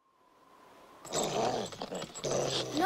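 A dog growls low and menacingly in a tense movie scene on a bridge, rising out of near silence after a faint steady tone, with snarling bursts that grow louder.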